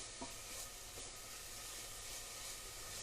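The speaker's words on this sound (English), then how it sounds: "the onions are starting to sizzle away" Onions sizzling in a pan for a tomato carbonara sauce: a steady, close frying hiss that holds level throughout, with a couple of faint clicks near the start and no voices.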